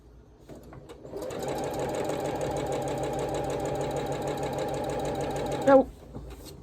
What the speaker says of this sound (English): So just sew the first 2 together like that